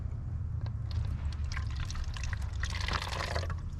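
Water is poured from a container onto young seedlings, a soft, continuous trickle and splash heard close up, swelling briefly louder near the end of the short pour.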